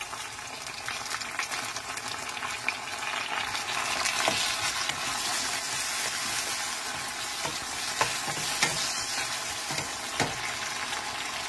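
Chopped tomato frying with browned onions for palak chicken, a steady close sizzle broken by occasional scraping stirs of a spoon through the pan, with no voices.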